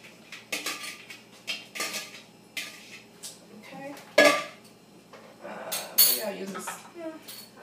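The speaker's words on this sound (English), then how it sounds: "Go ahead and add those greens." Collard greens go into a pot on a stovetop at medium heat, with repeated clanks of pot, lid and spoon, sharp metallic clinks, and soft rustling as the greens are added.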